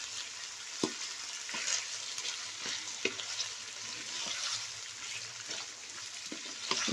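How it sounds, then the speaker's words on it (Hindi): Chicken frying in a pan with ginger garlic paste for a turnip and meat curry, a steady close sizzle with intermittent stirring clicks and scrapes of a spoon throughout, no voices. "ये अदरक लहसुन की पेस्ट डालकर इसको हम 2 से 3 मिनट के लिए भून लेंगे।"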